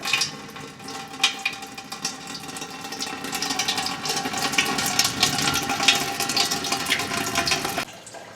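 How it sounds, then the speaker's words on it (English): Antifreeze drains from the radiator of a 1965 Impala into a pot, a steady, close splashing trickle that runs continuously and swells slightly before ending abruptly. "So you just loosen this up, drain all your antifreeze into this pot."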